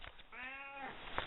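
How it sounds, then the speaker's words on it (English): A pet cat indoors gives one drawn-out, faint meow lasting under a second, with soft handling noises around it. "yes, that's my cat."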